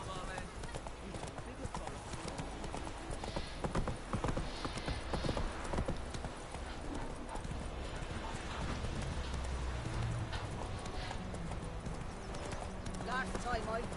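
Roach, the horse in The Witcher 3 video game, clip-clops along in a steady hoofbeat rhythm throughout, with people talking over the sound.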